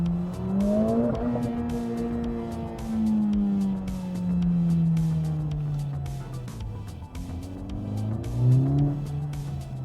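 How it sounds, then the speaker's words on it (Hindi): A Mercedes-AMG A45 S in sport mode revs hard, its engine note climbing and falling in repeated loud sweeps that surge, ease off and rise again across the whole stretch. "ये चाहता है कि हम इसको रेव करें, इसको हम खींचें इसके लिमिट्स पे। ये स्क्रीम करता है"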